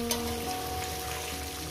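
Quiet, steady sizzle of food frying in a pan, a soft continuous hiss over a low hum.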